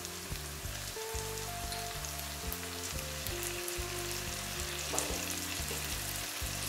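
Onion fries with chilli paste in a pan, making a soft, steady sizzle with light crackling. A sustained background tone runs underneath, and a brief stir or scrape occurs near the end.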